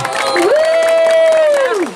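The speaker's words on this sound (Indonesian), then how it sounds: "tepuk tangan buat adik-adik semuanya." Children cheer together in one sustained, rising-and-falling shout over a busy crowd background at a school snake education event, loud and close for about two seconds.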